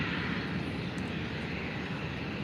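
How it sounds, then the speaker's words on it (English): A Condor airliner takes off early in the morning at Faro Airport, its jet engines giving a steady, broad roar that holds at an even level throughout, with no voices. "Nice early takeoff made by Condor"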